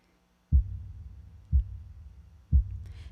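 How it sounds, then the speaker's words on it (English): Three deep, thumping percussion hits land about a second apart in a steady heartbeat-like pulse within a song, each with a short low-end tail; a faint hiss rises at the very end. "I wanted it to be almost like a heartbeat that just is very constant and steady and just goes throughout the whole thing."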